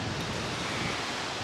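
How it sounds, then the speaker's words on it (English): Large ocean waves break on a long beach, a loud, continuous wash of surf that fills the whole moment with a steady roar and no voices. "The waves are ginormous."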